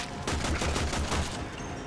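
Rapid bursts of gunfire from the video game Warframe, a quick run of about ten evenly spaced shots rattling off over roughly a second, loud and alone without talk.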